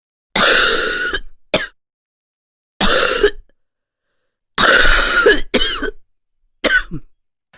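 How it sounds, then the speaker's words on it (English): A person gives a wet, phlegmy cough in several separate bouts, some single and some double, each close and loud with short silences between them. "This is what the typical wet cough may sound like."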